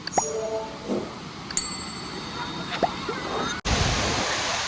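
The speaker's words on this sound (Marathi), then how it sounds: "बघू शकता मडप वॉटरफॉलचं रौद्र रूप" Madap Waterfall near Khalapur in Raigad district roars as a dense, steady rush that grows loud and close after an abrupt cut, with faint chime-like tones and scattered noises over the rushing water in the first part.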